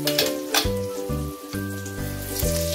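Eggplant omelette (tortang talong) fries in hot oil with a steady, close crackling sizzle, while soft tonal music plays underneath.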